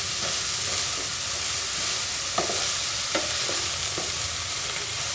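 Shallots fry in a pan with salt added, giving a steady, close sizzle with a few sharp scraping clicks of stirring scattered throughout.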